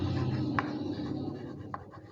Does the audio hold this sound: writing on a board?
yes